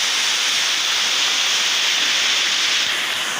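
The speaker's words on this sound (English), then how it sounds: "what you might know as the waterfall" A waterfall roars as a steady, dense rush of falling water, loud and unbroken with no voices over it.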